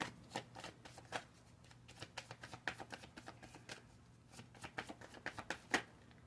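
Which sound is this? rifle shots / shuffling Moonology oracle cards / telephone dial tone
shuffling Moonology oracle cards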